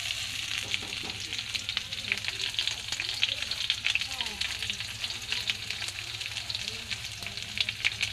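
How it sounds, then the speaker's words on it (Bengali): Chopped raw onions go into potatoes already browning in a pan, producing a dense, continuous sizzle with stirring scrapes and a low steady hum underneath, and no speech. "এবার আমি কাঁচা পেঁয়াজগুলো দিয়ে দেবো।"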